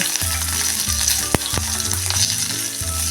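Cumin seeds, green chilies and curry leaves crackle and sizzle in hot oil in a pan, a steady close frying hiss with a sharp pop and a few clinks partway through, no voices.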